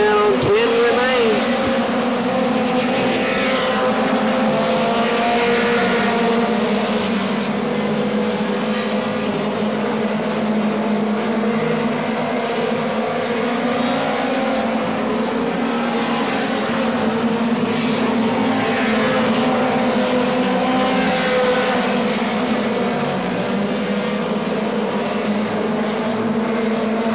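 Mini stock race cars at Atomic Speedway, a pack of engines droning and wailing loudly and continuously as they circle the track, the pitch rising and falling as cars pass, with an announcer's voice on the PA over the roar.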